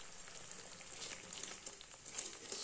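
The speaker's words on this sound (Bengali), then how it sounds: "এই যে আমি এই মশলাটাকে কষাচ্ছি" Spices and yogurt being stirred and sautéed in a pan over a low flame for a cauliflower rezala give off a soft, steady sizzle with light crackles, faint and close.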